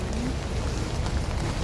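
Steady rain pouring onto Temple Street in Hong Kong, a dense, loud, unbroken hiss of drops on pavement and surfaces, close and continuous with no talk.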